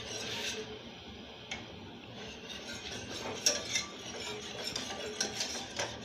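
A spoon stirs half a cup of corn starch into juice in a pot, with scraping and clinking strokes close by and fairly quiet, continuing steadily without talk.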